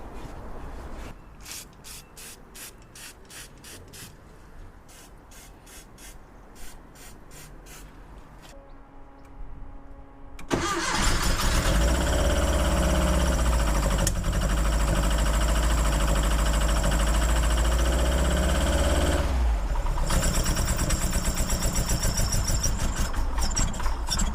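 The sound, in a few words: Porsche 914 engine starting and idling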